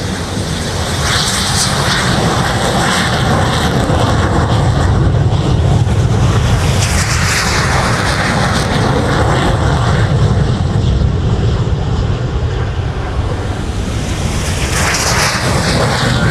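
Red Arrows jets rolling down the runway and taking off at the Farnborough Airshow, a loud sustained roar of jet engines that swells and shifts as they pass, with some wind buffeting the microphone.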